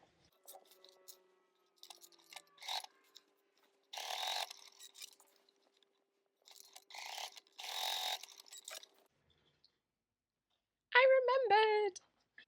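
A sewing machine stitches an envelope clutch in short mechanical bursts separated by pauses. Two longer runs of whirring and clicking stand out, and a voice speaks briefly near the end.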